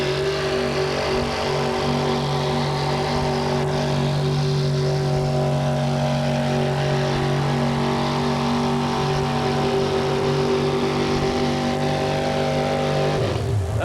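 Stomper monster truck with a carbureted Chevrolet engine making a full pull at a 1987 USHRA event in Buffalo: loud, sustained engine roar holding steady harmonics under strain, then cutting off sharply near the end.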